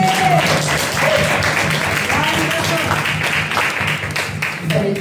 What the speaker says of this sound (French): Est-ce qu'on peut applaudir là?